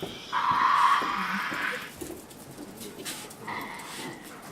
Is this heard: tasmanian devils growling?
yes